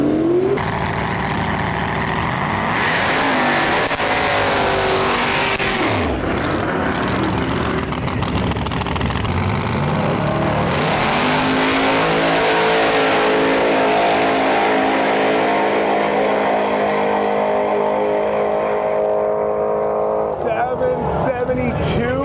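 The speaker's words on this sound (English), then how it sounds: "we got Chuck Stefanski behind us right there with the zoomies on that Grand Safari Lemans Wagon. Let's go watch his run right now." Pontiac Grand Safari Lemans Wagon at a Sick Week 2024 drag racing event, a loud engine roar that builds and pulls away, then fades into distance, with crowd noise and talk around it.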